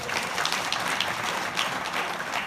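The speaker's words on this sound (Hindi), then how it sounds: "ताली बजाओ छोरियो।" Audience applause at a Maha Shiv Puran katha gathering in Chhatrian, a steady wash of many hands clapping at even loudness throughout, with no voices over it.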